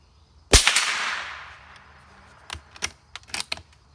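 A Remington Sportmaster 341-P rifle fires once at a steel plate on a range: one sharp, loud crack followed by a decaying ring, then several small clicks and rattles of handling the action.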